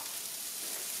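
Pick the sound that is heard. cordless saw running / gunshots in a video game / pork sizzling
pork sizzling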